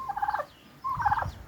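Turkeys on a backyard homestead let out two close, loud rattling gobbles separated by a short pause.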